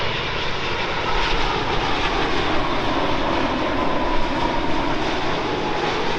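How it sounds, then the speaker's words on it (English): A WestJet Boeing 787-9 Dreamliner at London Heathrow gives a loud, steady, broadband engine roar that holds constant through the whole span, with no talk over it. "WestJet's Dreamliner,"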